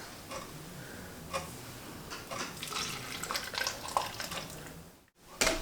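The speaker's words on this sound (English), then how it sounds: "So I'm going to funnel it in these last three jars and get them sealed up." Hot canning brine for dilly beans pours through a funnel into glass jars, a trickling splash with light clinks that grows busier before a brief pause and a final pour.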